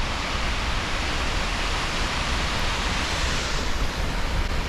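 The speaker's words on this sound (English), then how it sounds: "This is one of 2 waterfalls at Mount Damper" A steady, dense rush of falling water from a waterfall at Mount Damper, loud and unbroken throughout, with no voices.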